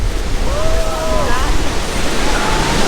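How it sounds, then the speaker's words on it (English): Waterfall roaring right beside a boat, a loud, unbroken wash of white noise with wind buffeting the microphone; a few faint voices and whistle-like tones drift through. "we are right next to the falls now"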